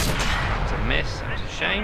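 In World of Tanks, a tank's cannon booms with a deep, rumbling low blast amid ongoing battle noise, with a voice speaking faintly over the game sounds.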